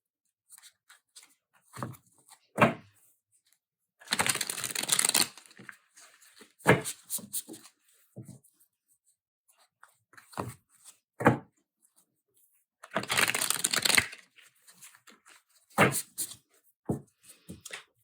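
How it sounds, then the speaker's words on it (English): Tarot cards from a carved wood box set being shuffled by hand, close up, with several separate riffling bursts and soft clicks and knocks of the cards between them, no talk. "As I'm shuffling, it's getting a little bit easier to handle the cards."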